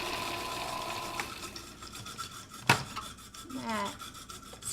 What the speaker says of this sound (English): instead I'm going to pulse it in the food processor